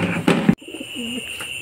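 Hungry breeder pigeons coo in a low, rolling murmur close by after a brief burst of louder rustling, with a steady high-pitched hum running underneath.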